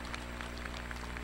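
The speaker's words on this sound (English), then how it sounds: "let's all give them, all three of them, a round of applause for their special role in today's ceremony" A faint, steady patter of audience applause at the Moody Fall 2017 commencement ceremony, heard from a distance as continuous clapping without anyone speaking.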